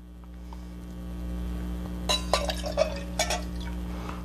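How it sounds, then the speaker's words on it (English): Cream poured back and forth in a cocktail shaker for a piña colada, giving a run of splashing, glassy pours and clinks over a steady low hum, close by and moderately loud. "I'm just going to kind of pour it back and forth, so I can make sure I can get all that"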